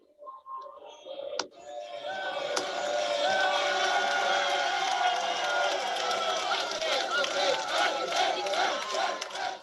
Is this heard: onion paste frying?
no